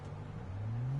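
A car engine whirs and rises in pitch as a vehicle drives past in the Need for Speed 2015 racing game, a steady accelerating drone.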